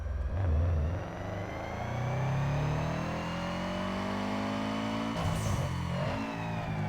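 A 2.5-litre flat-four Subaru Impreza WRX STi revs up hard on a dyno in Need for Speed, its engine note climbing steadily through the gears, loud and close, with no talk.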